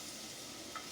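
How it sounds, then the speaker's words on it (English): Onion sizzling in a pan, a faint continuous frying hiss heard alone for a brief moment. "nice little sizzle"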